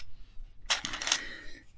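Old metal coins and tokens found while treasure hunting are handled in a short burst of clinking, near and fairly quiet, after a brief silent pause.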